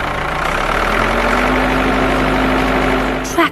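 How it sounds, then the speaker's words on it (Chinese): A farm tractor engine idles and runs steadily with a low, even hum, close and loud, with a faint steady tone above it, ending in a brief knock. "The tractor pulled it"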